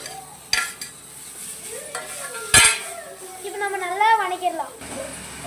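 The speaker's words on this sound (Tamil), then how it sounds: "இப்போ நம்ம தக்காளி பூண்டு பூண்டு புளி போட்டுக்கலாம்" Onion, tomato, garlic and tamarind frying in a pan, a soft steady sizzle broken by sharp clinks of a stirring spoon against the metal, while someone talks over the cooking.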